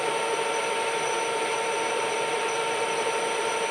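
Steel being cut at high speed on a lathe with a very fine 0.05 mm pass, a steady, close, dense hiss and whine that holds unbroken throughout.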